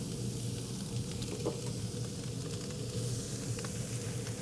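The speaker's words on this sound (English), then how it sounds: "And the shrimp go right on the griddle." Shrimp fry on an oiled griddle with a steady, moderately loud sizzle that holds evenly throughout, with a few faint crackles and utensil taps.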